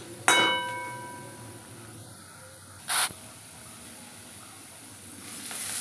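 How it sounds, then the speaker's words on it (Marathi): Four or five finely chopped onions hit hot oil in a kadhai: a sharp hiss bursts out, fades to a quiet simmer, then flares again briefly before settling into a soft steady sizzle. "आता मी थोडंसं तेल टाकून ही कांदा आता भाजून घेणार आहे"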